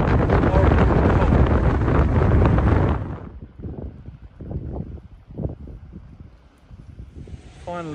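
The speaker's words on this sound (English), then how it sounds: "The wind up there was just horrendous." Strong wind buffets the microphone on an exposed fell above Angle Tarn, a loud roaring rush for a few seconds before dropping to quieter, gusty rustling and footsteps.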